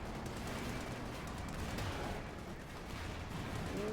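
Tank cannon fire in a Company of Heroes 2 battle between a Panzer IV and a Sherman, heard as a loud, dense, continuous wash of gunfire and explosions with no clear gaps.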